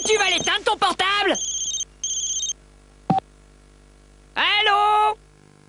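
A mobile phone ringtone from a French TV broadcast trailer chirps in short bursts of bright repeated tones with gaps between them, after a voice speaks at the start.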